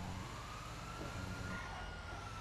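Emergency vehicle sirens wailing in the video game GTA V, a steady continuous tone over a dense, loud rumble of traffic and engine noise, with no voices.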